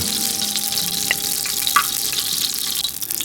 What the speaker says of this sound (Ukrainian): Ковбаски вже добре підсмажились, приберемо поки їх з нашої сковороди.